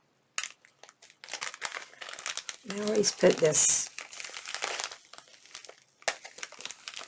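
Plastic packaging crinkles and rustles in bursts as it is unwrapped, with a person speaking briefly over the handling noise.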